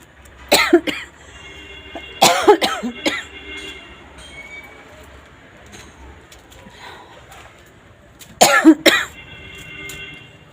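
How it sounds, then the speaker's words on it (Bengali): Someone coughs heavily in a house under construction, with loud close hacking fits at the start, a cluster of several coughs a couple of seconds later, a long quieter gap, then another strong burst toward the end. "বড্ড বেশি কাশি হচ্ছে"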